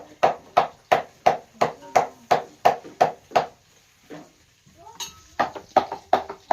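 A potato being chopped into small pieces with a knife on a board, sounding as a rapid, even series of sharp close taps, then a short pause with faint rustling before the chopping picks up again.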